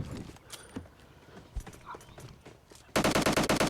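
Gunfire in the mobile battle-royale game PUBG Mobile Lite: after quiet scattered clicks and faint thuds, a loud rapid burst of automatic shots fires in a tight even rhythm at the end.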